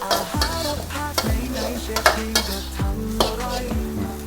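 Beef with dried chillies and holy basil stems is stir-fried dry in a pan with no oil, spatula scrapes and clanks repeating every half second over a soft sizzle, close and alone.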